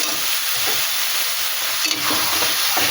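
Mashed eggplant and tomato sizzling loudly in a hot pan, with continuous frying hiss and occasional scraping stirs.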